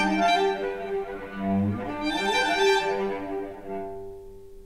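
Strings play a contrasting C section of a classroom-composed rondo, several sustained bowed harmonic lines shifting together at steady moderate loudness, alone with no talk, fading slightly at the end.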